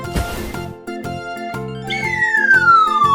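A cartoon cat's meow rings out over bright, tinkling children's music with jingly accents, followed by a rising and then sliding whistle-like tone; loud and close, with no talking.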